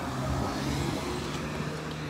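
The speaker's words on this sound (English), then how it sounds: "Whoa, car." A car on a road in Redlands gives a steady, close, broadband rumble of engine and tyre noise that holds without a clear rise or fade, with no voices.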